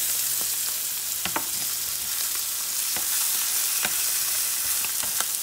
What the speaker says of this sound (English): Let me saute this a little bit longer.